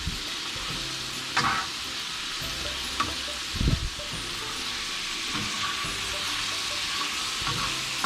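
Chicken liver (kaleji) sizzles steadily on a hot tawa, a continuous frying hiss broken by a few sharper scrapes and clicks as it is stirred.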